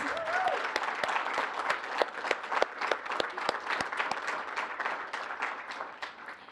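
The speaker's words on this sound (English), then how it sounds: "Can we give another round of applause for all the nominees?" A crowd at a student leadership awards ceremony applauds steadily, many hands clapping in a dense, sustained burst that tapers slightly toward the end.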